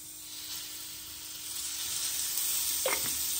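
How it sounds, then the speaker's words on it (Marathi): Sliced radish chakli frying in hot oil on a tava, a steady close sizzle that builds gradually, with a brief stirring scrape near the end. "तेलामध्ये परतून घेऊ चकल्या."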